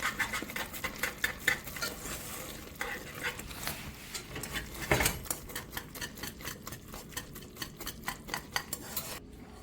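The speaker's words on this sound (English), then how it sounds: "And now I just do a little stirring." A spoon stirs cooked chocolate fudge icing in a pot, making a quiet series of rhythmic scraping and clacking strokes that turn faster and more regular toward the end.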